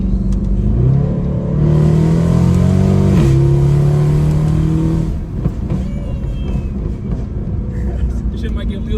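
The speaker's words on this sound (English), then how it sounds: "Like I'm pressing the gas pedal like this much." A Mercedes W204 C63 accelerating hard in Sport Plus mode: a loud, close engine roar climbs in pitch, briefly drops at a shift, then rises again before easing off, with voices in the car underneath.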